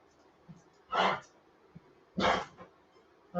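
A dog indoors barks at another dog outside the window, two fairly loud, separate barks about a second apart, with soft snuffs and quiet room noise between them.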